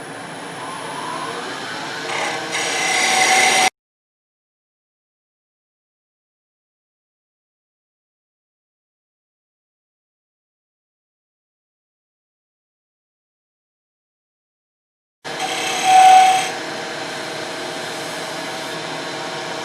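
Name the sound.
wood turning a gavel on a lathe with a bowl gouge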